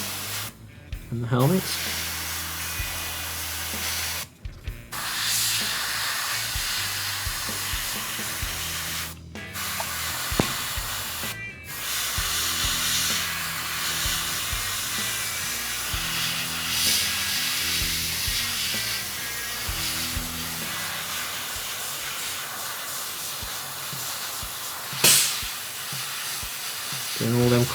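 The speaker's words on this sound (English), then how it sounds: "just slowly rock back the trigger and start to coat it on and all over the armour" A metallic Ultramarines Assault Intercessor Space Marine miniature is spray painted with a trigger sprayer, giving long steady hissing bursts broken by short pauses while someone talks.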